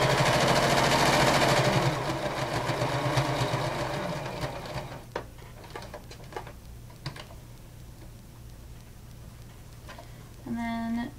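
A sewing machine stitches an elastic headband, loud and steady for the first couple of seconds, then dropping to softer intermittent clicks and short bursts, with a brief tonal whir near the end.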